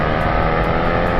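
Range Rover Sport V8 engine roaring loudly and steadily up close, a dense continuous rev with no voices over it.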